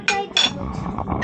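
A spoon and dishes clink together at a restaurant table in Kashmir, two sharp metallic chinks followed by softer clatter and faint background murmur.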